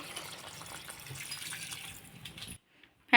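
Plain water pours steadily into a pot of mutton curry with a gushing, splashing sound for a couple of seconds, then stops abruptly.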